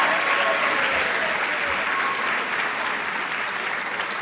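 An awards-ceremony audience applauds an entrance video with steady, dense clapping that fills the room at full loudness from start to finish, with no pauses.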